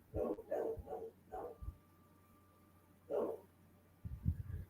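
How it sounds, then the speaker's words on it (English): A dog at a neighbour's place yelps and whimpers in short bursts, a quick cluster of cries followed by a lone whine after a pause and then a rougher stretch of sound, all fairly faint and distant. "I hear a dog that's like crying, whimpering."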